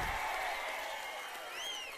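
Audience clapping and cheering at a political rally, a broad steady wash of applause from a crowd that stays loud throughout, with a brief high whistle-like tone near the end.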